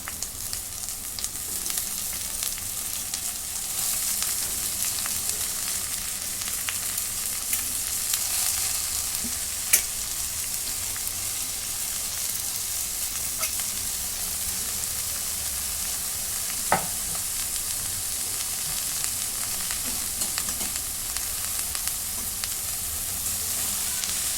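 Red amaranth greens frying in a pan while being stirred. A continuous, even sizzle holds for the whole stretch, with a couple of sharp utensil clicks against the pan and no talk.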